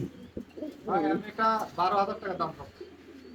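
Andalusian and King pigeons coo in a series of close, rising-and-falling calls, with someone speaking nearby amid a low room hum.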